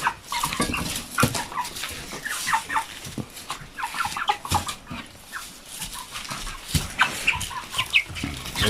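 Broiler chickens in a home coop cluck and squawk in overlapping bursts at close range, with scratching and shuffling noises between the calls and no talk.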